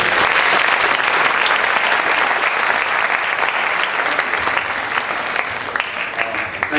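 Sustained, loud audience applause for a speaker at a lecture on sudden death, a thick steady wash of clapping that holds throughout with only a slight easing toward the end.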